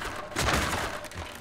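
A short burst of gunfire in the video game Stranglehold as a character shoots at photographs in a museum, one sharp loud volley that fades within a second.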